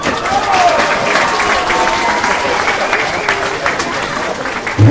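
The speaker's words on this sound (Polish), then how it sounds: "Jeszcze raz brawa Marianna Litwiniec." Crowd applause at a women's football match, Pogoń Szczecin against Stomilanki Olsztyn, a dense, steady clapping from many hands throughout, with an announcer speaking over it.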